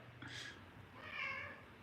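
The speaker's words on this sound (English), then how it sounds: "I hear you, kitty cat." A pet cat meows twice close by, a short high-pitched call followed after a pause by a longer, drawn-out meow, over a low steady room hum.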